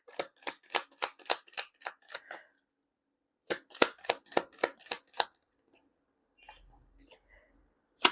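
Tarot cards are shuffled and pulled close by: two quick runs of crisp, evenly spaced snapping taps separated by a pause, then faint handling noise.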